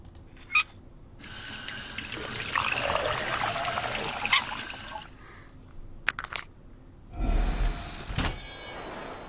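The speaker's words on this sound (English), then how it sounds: "Water bottle. Fill her up." In the video game Maze: Subject 360, water runs from a faucet into a water bottle as a steady splashing stream for a few seconds, followed by short clicks and a second, briefer burst of running water.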